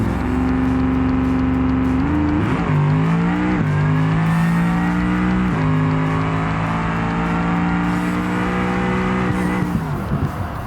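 A BeamNG drag car launches hard on nitrous, its loud engine roaring steadily and climbing through several sharp gear shifts over a full pass, with tire squeal mixed in.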